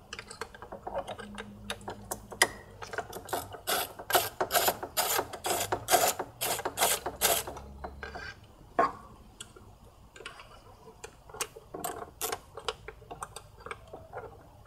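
A ratchet on a very long extension works T30 bolts off the intake manifold of a VW/Audi 2.0T TSI engine, giving rapid bursts of close, crisp clicking that pause and resume.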